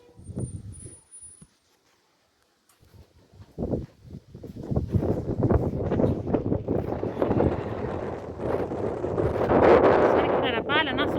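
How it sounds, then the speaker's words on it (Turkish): Gusty wind in Niğde, Turkey roars and buffets the microphone, with brief bursts of speech and noise before it builds into a steady, loud rush. "Anam nasıl rüzgar esiyor ya Rabbim."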